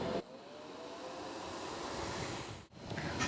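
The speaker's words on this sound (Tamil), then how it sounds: "நெக்ஸ்ட்டு பெரிய சிப்பி ஃபேன் ஆன் பண்ணிக்கலாம்." Small and large CPU fans running in a homemade Peltier mini AC, giving a steady airy whoosh that starts after a brief pause and holds close and even, with one short dip near the end.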